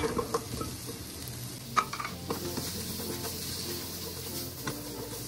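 Ginger, garlic and onion sauté in oil in a pan, a soft continuous sizzle with scraping and stirring of a utensil against the pan, close and alone.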